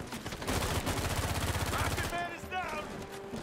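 Rapid bursts of gunfire from an Uncharted 4 firefight fill the first two seconds, loud and close, followed by shouted character voices and game action sounds.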